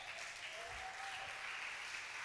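A church congregation applauds during a sermon, a steady, soft wash of distant clapping that holds even throughout, with a faint tonal hum running underneath.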